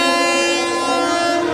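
The Venad Express leaving Thiruvananthapuram Central sounds a loud, sustained train horn: one steady, rich blast held close throughout, with faint rolling rumble beneath.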